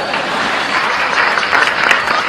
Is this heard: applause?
yes